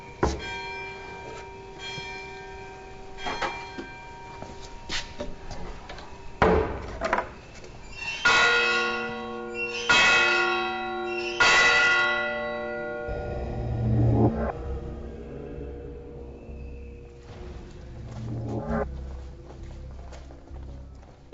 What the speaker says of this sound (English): Here, time is tied to the rituals of the order with the clock bell.